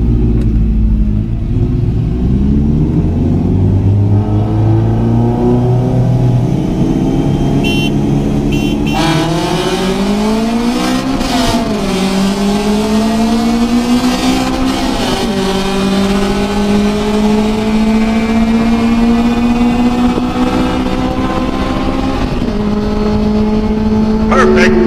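Honda Civics with B16A DOHC VTEC engines, an EF Civic Si and an EM1, accelerate hard in a first-gear roll race, the engine note climbing steeply in pitch with brief dips at shifts; loud, close, with voices underneath.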